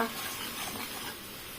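Cumin, ginger and green and red chillies sizzle in hot oil alongside fried potatoes and pointed gourd, a steady close frying hiss with light stirring, no voices over it.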